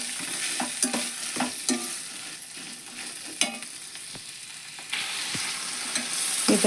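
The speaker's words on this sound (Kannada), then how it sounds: "ಮಿಕ್ಸ್ ಮಾಡೋಣ್ರಿ ಇದು ಒಗ್ಗರಣೆ ಒಳಗೆ" Sprouted horse gram is stirred into hot tempering oil, giving a continuous sizzle with repeated scraping clicks of the spoon against the pan. The frying sounds are close and fairly quiet, with no talk.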